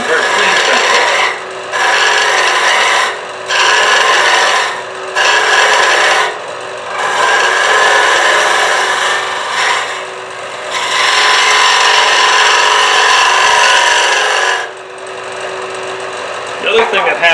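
A woodturning tool cutting the end grain of a small hollow wooden vessel on a lathe, a loud raspy scraping in sustained passes broken by short pauses, close and clean.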